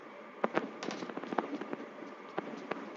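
Gunfire in a battle royale video game crackles as a rapid series of sharp pops, some doubled, fairly faint and distant throughout, with no talk over it.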